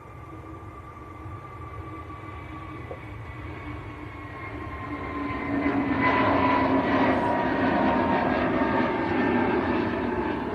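Airbus A321neo jet of EgyptAir rolling for takeoff at Manchester Airport, a steady engine roar that swells louder from about halfway through and holds, heard from a distance with no talk.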